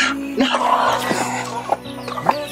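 Chickens and chicks cluck close by in a short run of calls and soft peeps, with faint voices in the background.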